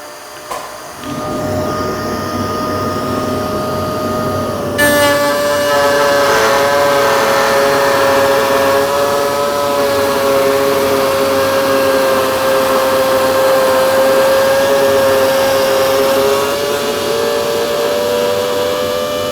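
A router mounted in a router table, making a woodworking template, switches on and whines steadily at high speed, loud and close. The motor hum is sustained and unbroken, with no one talking.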